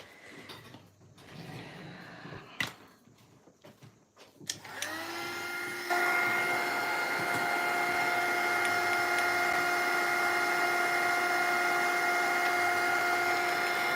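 An electric heat tool drying glue and liquid acrylic on a mixed-media collage switches on partway through and then blows as a loud, steady whirring hum that continues to the end.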